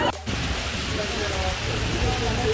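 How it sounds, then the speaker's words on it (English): Steady rain hisses down in a dense, continuous wash, with faint voices mixed underneath. "It's raining now"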